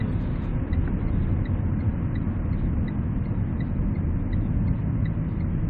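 A 2012 Renault Samsung QM5 accelerating hard after a U-turn, heard from inside as a steady, dense low engine and road rumble with no talking.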